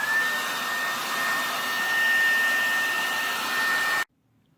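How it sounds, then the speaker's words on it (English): A hair dryer blows with a steady whooshing roar and a thin high whine, drying parkerized replica weapon parts, running close and continuously before cutting off abruptly near the end. "You can speed up the drying process with your wife's hairdryer"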